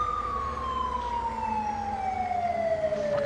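An Australian ambulance siren in GTA 5 with the LSPDFR mod wails loud and close, one long tone sliding steadily downward over a low engine rumble.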